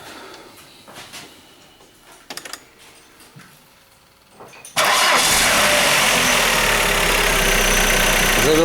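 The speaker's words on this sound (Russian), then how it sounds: "Завелась с полпинка" A 2.0-litre X20XEV engine in an Opel Omega B, already warm, cranks briefly after quiet shuffling noises and catches at once, settling into a loud, steady idle close to the listener.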